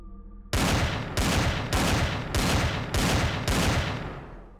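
Six heavy, booming sniper rifle shots from the video game Empyrion - Galactic Survival, fired in a slow, even rhythm, each loud close report ringing into the next, with the last one fading out.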